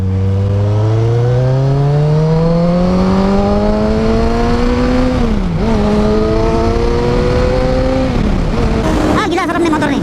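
A 2013 Kawasaki Z1000 motorcycle accelerating hard, engine pitch climbing steadily, dipping briefly at a gear change, then rising again through the next gear, loud and close throughout.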